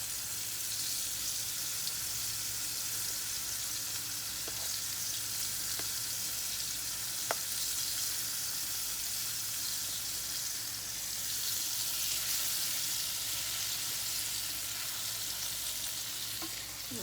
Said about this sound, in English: You're just going to lightly brown this cube steak.